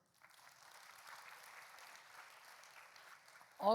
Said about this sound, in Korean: 여기 1학년들 박수.